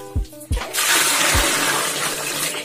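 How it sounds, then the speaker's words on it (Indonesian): Water pours in a loud continuous rush to rinse a washed T-shirt, preceded by a few short thumps and a brief splash before the steady gush fills the rest. "Ini bilasan yang pertama, kita kasih air secukupnya aja."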